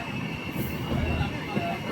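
The Amrit Bharat Express sleeper train stands at a station stop, giving a close, low rumble with faint wheel squeal and soft background voices.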